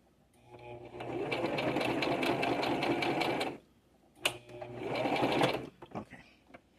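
A sewing machine stitches a giant paper bag journal, with a loud, rapid motor-driven run lasting about three seconds, a pause, then a shorter back-stitching burst, and faint talk nearby.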